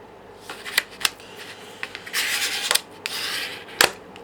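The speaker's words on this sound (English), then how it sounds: "So just score down there and then fold that over." Card stock is scored and folded into a 7 by 5 card, heard as close, quiet scraping strokes and papery rubs with a few sharp creasing ticks.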